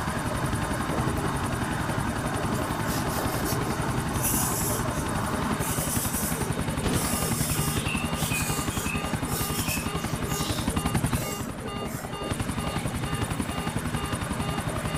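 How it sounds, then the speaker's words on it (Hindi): A helicopter lands on a helipad in a GTA game, its rotor chop thumping steadily and loudly throughout with a constant high engine whine, dipping briefly near the end. "हेलीकॉप्टर को लैंड करने वाले हैं हेलीपैड"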